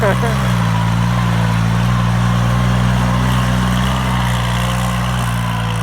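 A Kubota L3608 walk-behind tractor pulling a harrow through a flooded rice paddy, its engine running steadily and loudly up close with a constant low drone, while people talk over it.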